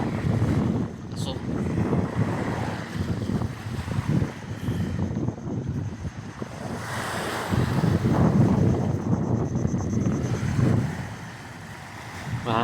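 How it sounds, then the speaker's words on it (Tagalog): Strong wind buffets the microphone with gusty roaring, mixed with the wash of rough surf and waves, continuous and loud throughout with some rises and lulls. "Mahangin. Maalon."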